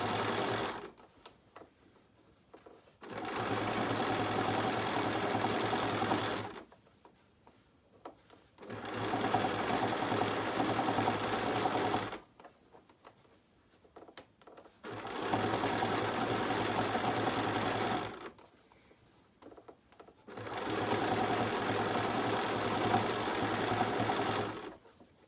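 A sewing machine stitches an embroidery project in four long, steady runs of rapid mechanical whirring, each lasting several seconds and separated by quiet pauses, close and clear with no talking.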